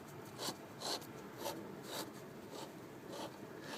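Rewound electric motor running rough, its brushes giving a faint, rhythmic scraping rasp that swells and fades in repeated pulses about every half second, close by.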